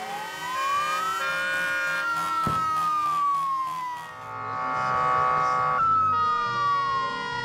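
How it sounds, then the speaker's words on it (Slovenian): Loud wailing sirens from a fire engine in a protest procession in a city square, rising and falling in long sweeps that overlap other sirens, steady and close throughout with a sharp bang partway through. "Glasno tuljenje siren,"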